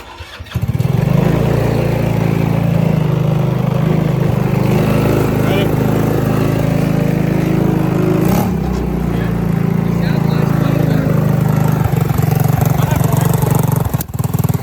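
A Yerf Spiderbox GY6 kart engine with its muffler cut off runs loud and close, a steady raspy drone holding an even pitch throughout, with a short dip partway and a voice speaking over it.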